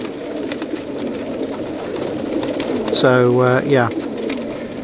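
Pigeons in a loft coo with a short burst of low, rounded calls near the end, close by, over a steady bed of background noise and a brief spoken phrase.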